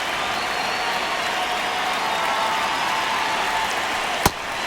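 A dense, steady roar from a ballpark crowd in MLB The Show 26 carries on throughout at a constant level, with one sharp clap or thump near the end.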